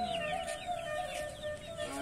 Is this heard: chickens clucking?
yes